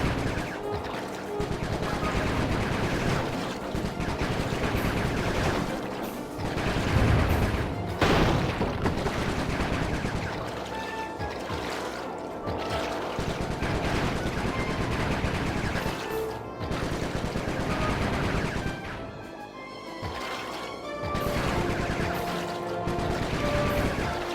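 Dense, continuous gunfire and crashing impacts from the Sly Cooper video game, a loud busy barrage of shots and smashes layered under music-like game sound throughout.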